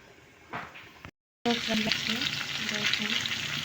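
Fish curry frying in oil in a pan, a bright steady sizzle with stirring, briefly cut off by a short gap before resuming louder while someone talks over it.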